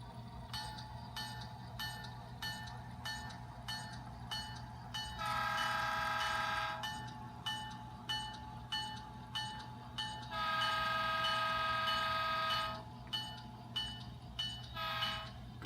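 A small model train clatters along with rhythmic clicking, and two long horn blasts sound partway through.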